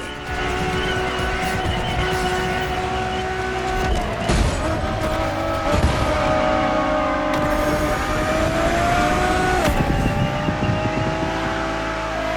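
A Ferrari Enzo supercar engine roars steadily in the racing video game The Crew Motorfest, loud and continuous, with tire squeals and skids breaking through as it drives.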